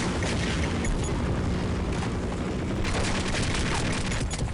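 A secondary-attack grenade explosion blasts apart boxes in Half-Life MMOD, a loud dense roar of booms and crackling debris rolling on for several seconds, close and without talking.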